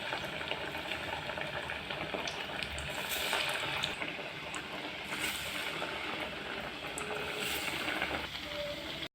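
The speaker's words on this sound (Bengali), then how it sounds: "তো এবার আমি বাঁধাকপির পকোড়াগুলো খুব ভালোভাবে ভেজে নেব।" Cabbage pakoras deep frying in hot oil, a steady hiss and bubbling sizzle that holds evenly throughout at moderate volume, with brief brighter crackling bursts.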